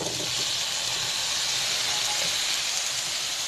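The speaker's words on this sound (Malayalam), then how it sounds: "ഇനി കല്ലുമ്മക്കായ ഇട്ട് കൊടുക്കുക." Mussels tossed into a hot pan with grated coconut, giving a loud, steady, hissing sizzle that holds evenly from start to finish with no pauses.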